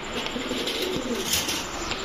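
A female jumbo-size pigeon, one of a mated pair of Bangladeshi high-flyer racing pigeons, coos softly and continuously close by over a low, steady background hum.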